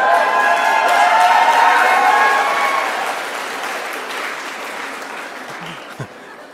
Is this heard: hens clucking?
no